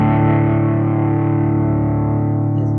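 A heavily distorted electric guitar through a Joyo US Dream Distortion pedal rings out in one sustained, loud chord, thick and buzzing, with no voices.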